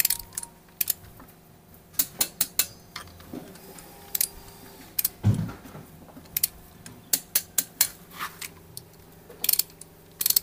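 A mechanic tightens metal parts on a Panther double-cab truck, making a series of sharp metallic clicks and ratcheting ticks in irregular bursts, close and alone over a low background hum.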